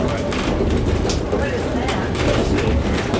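The White Pass train runs on the rails near White Pass Summit, making a continuous loud rumble and clatter of wheels on track, with a voice speaking over it.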